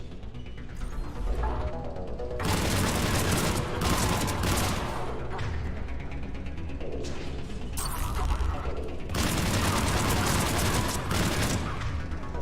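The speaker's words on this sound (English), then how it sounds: "Commander, we're getting a lot of mortar fire" Battle in Mass Effect 3 on Tuchanka, with dense bursts of automatic gunfire and heavy mortar impacts arriving in loud waves, near and chaotic, with a few pauses between salvos and voices faintly underneath.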